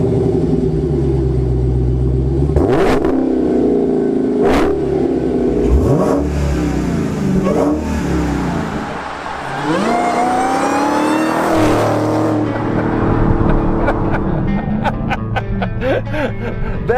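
A 2019 Dodge Challenger Redeye accelerating at full throttle with the rear wheels spinning and not hooking up, loud rising engine roars through repeated upshifts, with engine pitch sweeping up and dropping again over the run.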